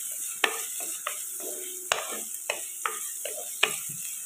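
Small onions sautéing in a pan for a tomato curry, with a soft sizzle under repeated sharp clicks and scrapes from a spoon stirring against the pan at an irregular pace.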